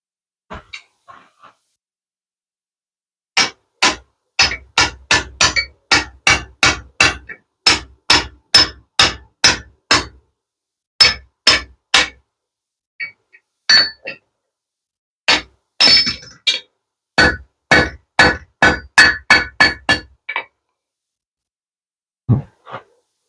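Hand forging a bottle opener with a bick iron set in an anvil: sharp ringing hammer blows struck in quick rhythmic runs, dozens of close clangs separated by short pauses, no voices.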